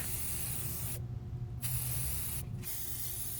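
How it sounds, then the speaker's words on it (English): Spray paint hissing steadily from an aerosol can onto a pumpkin during a Halloween craft, a close continuous spray broken by two brief pauses. "Now grab your favorite spray paint colors."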